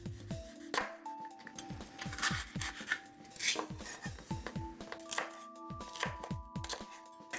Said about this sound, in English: Next, slice up some green onions, yellow and red chili pepper